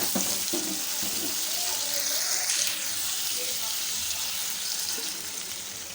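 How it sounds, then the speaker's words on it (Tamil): Water is added to a pan of yellow pumpkin cooking on the stove, giving a steady close sizzling hiss that runs the whole time with no pauses. "கொஞ்சமாக நம்ம இதில் தண்ணி விட்டுப்போம்"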